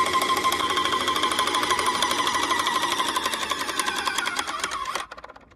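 A pressure roller kit pump runs loudly and close, pumping paint with a rapid, steady mechanical clatter that cuts off abruptly near the end as the machine stops on its own.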